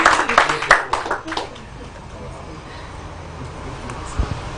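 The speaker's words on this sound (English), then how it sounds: "Wow, a round of applause." A quick burst of audience clapping on a talk show, loud and scattered at first and then thinning out within a couple of seconds, with a voice speaking around it.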